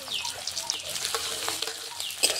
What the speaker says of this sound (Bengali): যে পেঁয়াজটা খুব ভালো করে ভেজে নেব